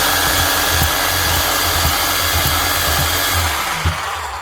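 A worn Makita HR4013C rotary hammer that is not hammering runs steadily and loudly, giving a constant whirring motor drone with no striking impacts, then winds down slightly at the end.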